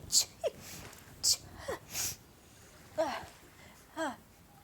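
A voice playfully mimics sneezes, several short breathy bursts with squeaky vocal sounds, spaced across a few seconds.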